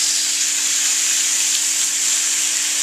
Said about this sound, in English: we're going to take and add this barbecue sauce right to this pan.